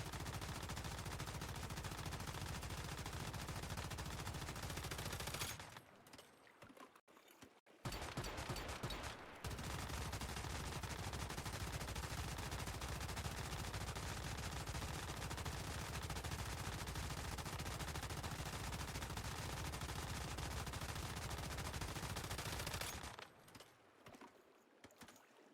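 An LMG in the survival shooter Once Human fires in long, dense automatic bursts until the magazine empties, a loud continuous rattle broken by a brief pause and ending abruptly, with no talk.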